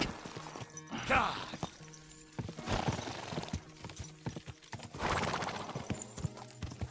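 Horse galloping in Kingdom Come: Deliverance 2, rapid rhythmic hoofbeats in a steady clip-clop with a couple of whinnies and snorts, close and continuous, with someone talking quietly at times.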